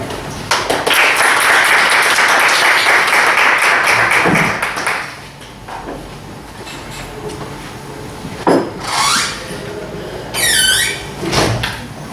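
Audience at an academic panel applauding to welcome a presenter, a dense patter of clapping for about four seconds that then fades, followed by squeaks, taps and shuffling noises.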